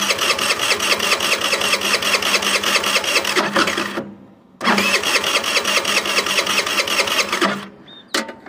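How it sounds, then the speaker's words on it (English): An old abandoned scooter engine fires and runs with a rapid, buzzy putter, cuts out briefly, then catches again and runs on before stopping, loud and close. "Well, she is firing, but I think she's only running off of what we just squirted in there."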